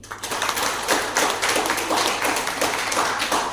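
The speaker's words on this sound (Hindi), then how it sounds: "इनके लिए जोरदार तालियां" Loud, dense applause from a crowd at a rank celebration event, continuous throughout with many overlapping claps.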